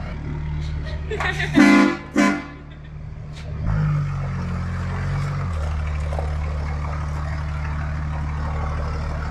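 Two loud honks from a car horn sound close by, followed by engine hum and low rumbling of a third-generation Cummins truck; voices are also present.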